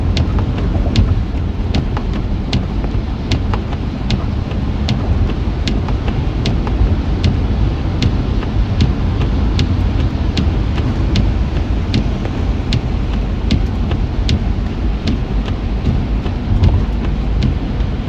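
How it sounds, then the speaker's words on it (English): Freezing rain falls through a Colorado winter ice storm, a dense steady patter with rumbling wind buffeting the microphone and regular faint ticks running through, loud and unbroken with no talk. "it seems to be mostly kind of freezing rain where I'm at right now"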